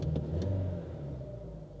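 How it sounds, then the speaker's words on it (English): A Chevrolet Aveo's lumpy, misfiring engine runs close by with a steady low rumble, a few faint uneven knocks breaking through early on, and no talking. "we've got a very lumpy, misfiery engine."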